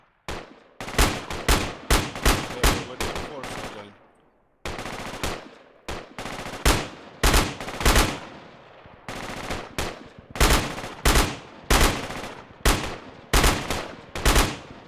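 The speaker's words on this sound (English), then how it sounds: "Okay, I will shoot." Repeated bursts of automatic gunfire and single shots in the military shooter game Project Reality, loud and close, arriving in quick clusters with short pauses between volleys across the whole stretch.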